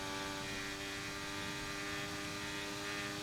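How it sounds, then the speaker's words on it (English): A steady, droning Formula 1-style racing car engine hum in a video game race at Portimão fills the whole stretch, even and unbroken, with tonal whine layered over a constant low rumble and no voices. "As we all hear the light hum of the engines."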